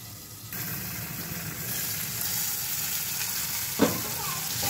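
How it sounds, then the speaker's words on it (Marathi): Small potatoes fry in a thin kadhai with a steady, close sizzle, and a brief scrape of stirring stands out near the end. "आता मी झाकण ठेवून परतवून घेते।"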